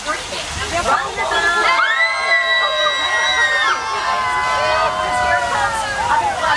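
Riders on a Universal Studios Hollywood tram tour scream together in long, high wavering voices, swelling loudly for several seconds over rushing water and crowd bustle, with talk around the screams.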